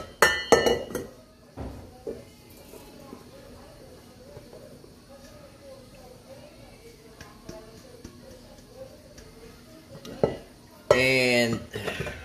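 Pizza dough ingredients are stirred in a bowl, with clinking and scraping of a utensil against the bowl in irregular bursts, a louder clattering stretch near the end, and faint voices in between.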